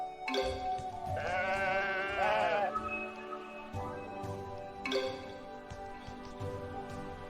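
Sheep in the video game Woven bleat with a couple of close, wavering calls in the first seconds, set over soft game ambience and footstep-like bumps that continue afterward.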